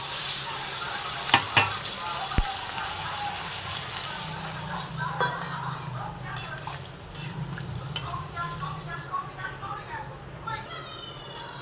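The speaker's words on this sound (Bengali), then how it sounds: "কষানো হয়ে গেছে, এবার জল দিয়ে দেবো" Sautéed spices in a cooking pan hiss and sizzle as water is poured in, loud at first and then settling into a steady bubbling fry, with stirring clatter and a voice faintly in the background.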